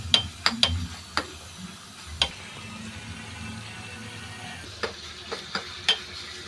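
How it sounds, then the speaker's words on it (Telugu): A spoon stirs food in a hot cooking pan, giving a handful of sharp scraping clicks over a low, steady sizzle, close and fairly quiet, with no talking. "ఇప్పుడు మగ్గింది కదా ఫ్రెండ్స్, ఇప్పుడు పసుపు వేసుకుందాం. బాగా కలపండి ఫ్రెండ్స్."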